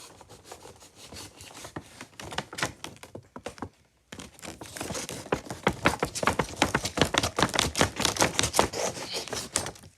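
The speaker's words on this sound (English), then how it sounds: "I'm just cutting this little protective layer off of it so I can actually get to the figure" Plastic protective packaging being cut and peeled off a boxed figure, a run of sharp close clicks and crinkly snips, sparse at first, then after a short silence dense and rapid.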